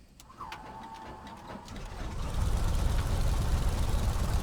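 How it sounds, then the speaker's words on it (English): A simulated Pratt & Whitney radial engine on a Carenado Beechcraft 17 Staggerwing is started: the starter whines and clicks, then the engine catches and builds into a steady, louder rumbling idle. "lovely sounds from that Pratt & Whitney engine as it roars into life"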